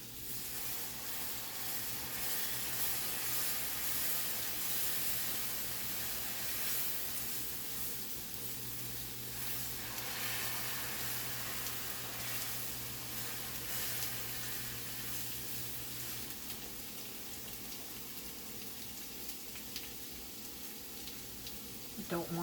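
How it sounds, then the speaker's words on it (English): Broth is whisked into a flour roux in a hot pan, giving a steady hissing sizzle with soft scraping stirs that runs continuously and fairly quietly, with faint talk at times. "now I'm going to whisk in some of the broth."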